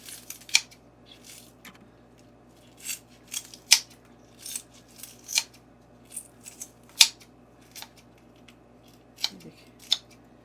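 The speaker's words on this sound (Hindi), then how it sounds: "तो अब इसके साथ ये स्प्रिंग अनियन भी काट लेंगे" Kitchen scissors snip through spring onions in a home kitchen, producing a dozen or so crisp, distinct cuts at an uneven, unhurried pace with quiet pauses between them.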